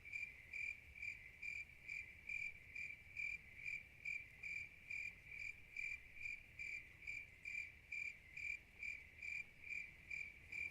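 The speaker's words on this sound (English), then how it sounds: "Those crickets." Crickets chirp at night near a fishing spot in a steady, rapid pulsing rhythm, clear and fairly close over a quiet low background hum, with no voices.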